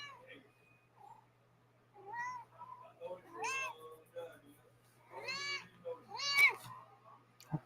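A cat meows several times, the calls growing louder and more insistent, with a few quiet human sounds in between.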